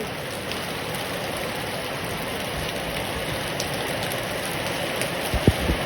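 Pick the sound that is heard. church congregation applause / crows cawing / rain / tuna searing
rain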